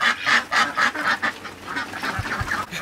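Ducks quack and honk loudly nearby in a rapid, overlapping series of calls that continues throughout.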